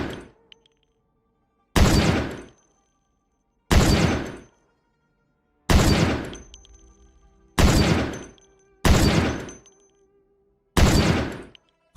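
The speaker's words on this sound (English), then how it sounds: "this sniper is gonna be very accurate, and we are gonna hit some crazy shots" Six heavy sniper rifle shots in the video game Project Zomboid, each a loud sharp crack with a short decaying tail, spaced roughly two seconds apart against near silence.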